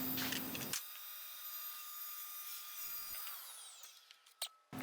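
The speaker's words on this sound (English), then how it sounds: "So I'm going to set my table saw to 10 15/16" A table saw rips wooden bookshelf panels, its spinning blade whining loudly and steadily through the cut before winding down, with a few brief knocks at the end.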